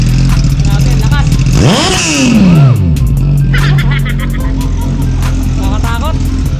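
Suzuki GSX-S 1000 and KTM Duke 390 motorcycles rev loudly and close by, one sharp rising-and-falling throttle blip standing out over a steady idle rumble, with people talking throughout.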